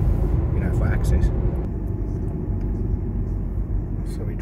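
A car drives down a hilly stretch mixing paved and dirt road into a small Portuguese village, its engine and road noise forming a steady, close, continuous rumble that holds level throughout.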